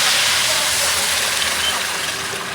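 Water hits hot fried broken rice in a pan, giving a loud, steady sizzling hiss of steam that holds up close for a couple of seconds before easing slightly.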